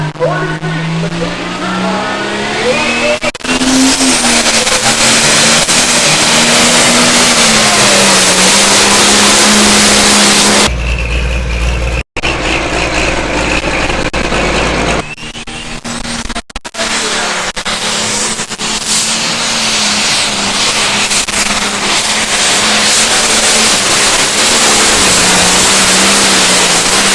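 Pulling truck at the St Charles County fair roaring loudly in a sustained, distorted engine howl, pitch rising and falling as it revs, briefly cut off and then resuming at full power.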